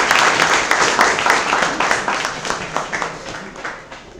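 An audience in a university chemistry department auditorium claps to welcome a speaker to the stage, a dense, steady round of applause that slowly thins and turns into more distinct individual claps toward the end.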